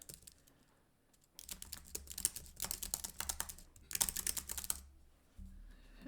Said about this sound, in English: And then I can go ahead and type my message.